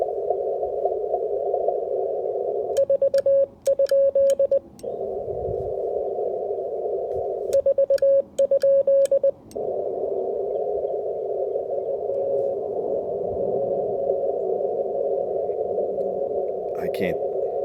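Amateur radio receiver carrying Morse code during a portable park activation, with a steady loud tone and short bursts of keyed dits and dahs repeating twice, then a long plain tone.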